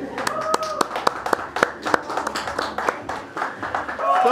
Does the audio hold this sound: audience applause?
yes